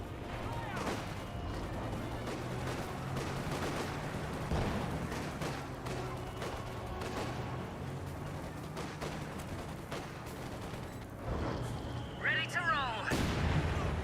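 Mortar shell bursting in the World War II strategy game Company of Heroes 2, one of several booms amid steady distant artillery and gunfire in a busy battle, with voices talking over it.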